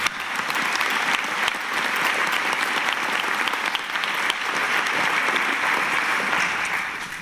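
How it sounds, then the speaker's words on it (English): Sustained audience applause at a school district board meeting, an even, moderately loud clatter of many hands holding steady for several seconds with no voices over it. "Please give them a round of applause as well."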